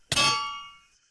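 A sword striking a face in an animated sniper warfare short, heard as one sharp metallic clang that rings on with a bright, slowly fading tone, alone and close.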